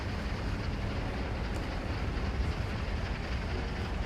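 Train in the video game Train Sim World 4 rumbling along steadily, a loud continuous low roar with faint rail clatter and no pauses.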